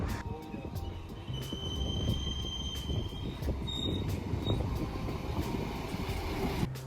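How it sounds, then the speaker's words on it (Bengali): A train at a railway station platform gives off a steady, loud low rumble with faint metallic squeals and high tones drifting above it throughout. "এই প্ল্যাটফর্মের এই জায়গা থেকেই আমাদের নেক্সট ট্রেন ছাড়বে"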